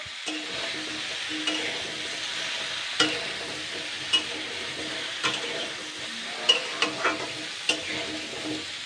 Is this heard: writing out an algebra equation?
no